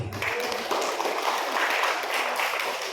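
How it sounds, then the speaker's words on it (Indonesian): An audience applauds the teachers at a school official's speech, a steady, dense wash of clapping that holds at an even level for the whole stretch, with no voices over it. "Tepuk tangan untuk guru-guru."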